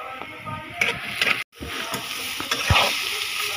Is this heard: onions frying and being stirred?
yes